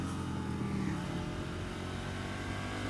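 A Ducati Monster 659 motorcycle on a road test ride, its exhaust giving a steady, close, rumbling burble on the overrun, heard alone without talk.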